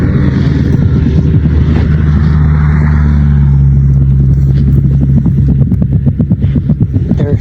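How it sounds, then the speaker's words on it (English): A huge machine digging beneath a backyard rumbles in a loud, deep, continuous drone, with a rougher rhythmic chugging building toward the end and no voices. "actually gets to hear what sounds like this huge machine digging something beneath his yard"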